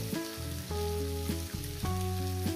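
Tomato dropped into hot masala with dried fish frying in a pan by a riverside, giving a steady crackling sizzle that holds throughout, with a low tonal hum running underneath.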